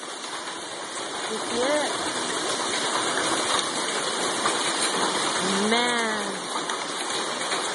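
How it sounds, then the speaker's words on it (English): Marble-size hail falls outdoors on Easter Sunday as a dense, steady, rushing clatter that fills the whole scene, while a person talks briefly over it. "It is hailing bad. Look at the hail. It is freaking like marble size."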